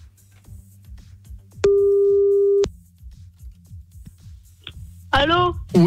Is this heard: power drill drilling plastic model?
no